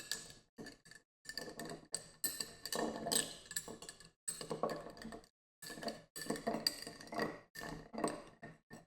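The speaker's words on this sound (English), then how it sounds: "I can stir the ice, I can stir the drink." Ice cubes clink and rattle against the glass as a cocktail is stirred, in quick irregular bursts separated by short pauses, close and fairly quiet.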